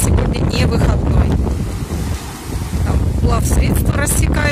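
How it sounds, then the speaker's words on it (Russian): Strong wind buffets the microphone at a crowded seaside beach in August, over rolling surf and a passing boat churning the water, loud and constant with faint voices in the background. "Я пытаюсь как-то заглушить ветер, но не знаю, насколько у меня это получается."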